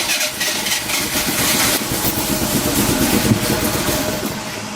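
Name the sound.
Merkur XR4Ti car engine starting and running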